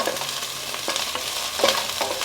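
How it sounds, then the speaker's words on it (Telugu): Oil sizzles steadily in a pan as something shallow-fries, with occasional scraping stirs over the constant crackling hiss. "షాలో ఫ్రై అండి కొంచెం"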